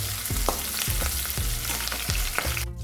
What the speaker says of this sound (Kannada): ಮೆಣಸಿನ್ಕಾಯಿ ಹಾಕೊಂಡು ತಿರುಗಿಸ್ತೀನಿ ರೀ.